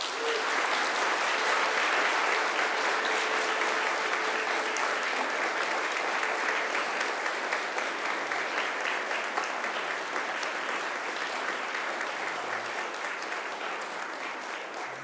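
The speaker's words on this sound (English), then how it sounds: "it's time to give them a mighty round of applause" A graduation audience applauds for a long stretch, a thick, sustained roar of many hands clapping that fades slightly toward the end, with no speech over it.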